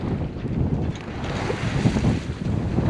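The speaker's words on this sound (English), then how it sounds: "So we're sailing, both sails up. Wind is a 45-degree angle from the west." A sailboat under both mainsail and genoa in about 13 knots of wind from the west at a 45-degree angle, with steady rushing wind noise and water washing along the hull, loud and continuous, no talk.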